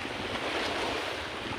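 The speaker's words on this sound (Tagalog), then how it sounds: "Medyo po malakas ang hangin at maalon." Strong wind roars against the microphone over rough sea waves breaking on a beach shore, a dense continuous wash of noise with no voices.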